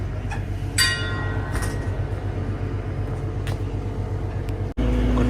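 Shivalik Deluxe Express pulling out of Solan station on a cold night, a steady low rumble of the train with a few metallic clinks and squeals, then an abrupt jolt near the end.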